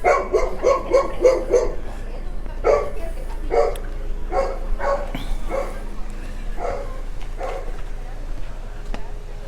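Several dogs bark on a street in a sharp, repeated volley. The barks are loud and close at first, then come in scattered bursts that thin out, with a faint voice underneath.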